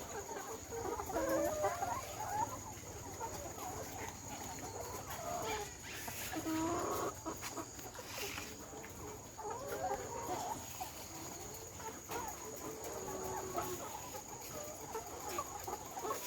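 Many laying hens on a poultry farm clucking and murmuring together throughout, a continuous flock sound with a steady background hum.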